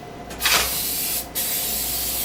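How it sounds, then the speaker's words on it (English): Cooking spray hisses onto a baking pan in two close bursts, a longer spray followed by a shorter one, loud and alone with no talk. "I'm gonna go ahead and spray my pan"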